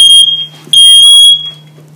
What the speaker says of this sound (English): Oh goodness, that's the fire alarm.